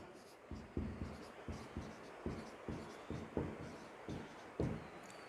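A pen writes on paper with a steady rhythm of soft scratchy strokes and taps, close and quiet, during an educational lesson.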